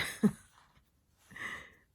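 Two separate coughs, a sharp one followed after a pause by a longer, rougher cough, close by with silence between.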